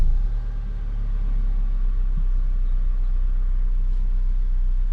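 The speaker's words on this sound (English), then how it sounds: "Start the engine again." An Alfa Romeo Giulia settles into a steady low idle after its engine is started following a battery replacement, a constant close rumble with no talk.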